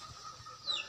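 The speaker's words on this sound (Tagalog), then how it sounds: "Yan, maingay manok." A chicken gives a short, faint cluck, ending in a brief higher squawk, with quiet ambient noise around it, at a nipa hut home in Cavite, Philippines.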